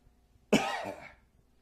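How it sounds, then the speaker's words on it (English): A man gives a single short cough turned away from the microphone, so it sounds slightly distant and muffled, followed by quiet. "I just coughed away from the microphone."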